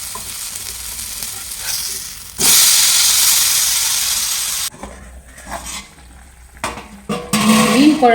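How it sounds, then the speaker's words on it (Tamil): Viral (snakehead) fish curry boiling in a large pot, a loud steady bubbling sizzle that swells suddenly, holds for a couple of seconds, then gives way to clinks and stirring noises, with no talk. "மீன் குழம்பு தளத்தலன்னு கொதிக்குது."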